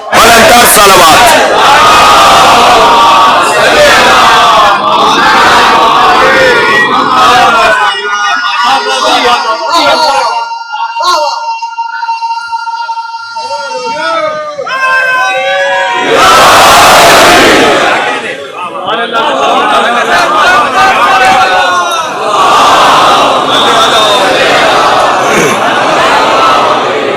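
A large mosque congregation at a Shab-e-Ashur majlis loudly chants salawat in unison, a roaring crowd response that swells, briefly dips into a quieter gap with scattered voices, then rises again in a second massive wave.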